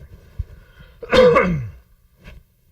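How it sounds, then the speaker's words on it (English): One sharp, explosive cough bursts out close to the microphone after a small throat noise, followed by a faint breath. "Cough into the microphone here."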